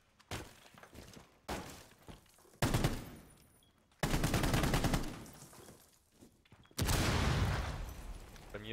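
Gunfire tearing through a wall in Rainbow Six Siege comes in sharp, loud bursts with a shattering, breaking crackle, separated by short quiet gaps and ending in longer sustained volleys.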